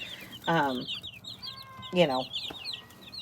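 Chickens in a brooder on a new farm give two short bursts of clucking about a second and a half apart, over faint high peeping and a low steady background hum.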